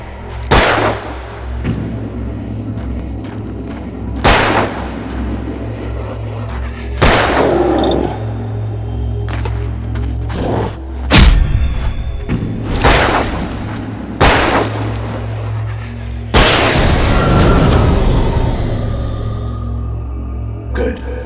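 Gunfire in the video game Alan Wake, a series of loud, close gunshot bursts and booms spaced a few seconds apart, with game dialogue spoken between the shots.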